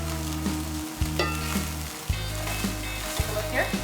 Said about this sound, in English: Nice, developing a nice brown sear.